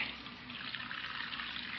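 Hot water running steadily from a tap to fill a hot water bottle, a continuous hissing stream that is close and even, with no talk over it.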